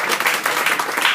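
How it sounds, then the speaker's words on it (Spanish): Brief burst of audience applause at a conference presentation, a short dense patter of many hands clapping close by. "Un aplauso"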